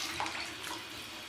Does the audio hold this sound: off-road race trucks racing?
no